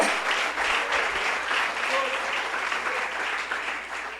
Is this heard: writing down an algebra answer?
no